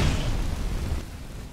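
Fire magic cast from the hands in the Skyrim video game, a loud rushing, booming burst of flame that roars and slowly fades.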